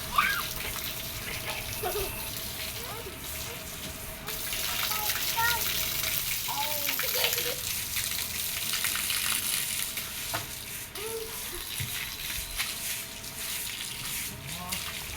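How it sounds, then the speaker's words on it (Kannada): Two children splash and play in cold water outside a house on a hot day, with continuous close sloshing and trickling, and voices heard now and then. "ಇಬ್ಬರು ತಣ್ಣೀರು ಸ್ನಾನ ಮಾಡ್ತಾಯಿದ್ದಾರೆ"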